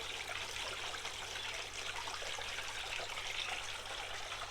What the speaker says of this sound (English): A nice little water feature.